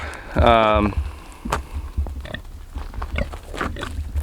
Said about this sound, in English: I got a pig and a goat following me right now.